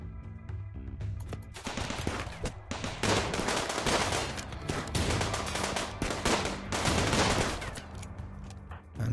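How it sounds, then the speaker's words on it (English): Colonists trading gunfire in the video game RimWorld, dense rapid shots and bursts overlapping continuously, loud and chaotic across the whole stretch. "can you two fire at him? And you two fire at them."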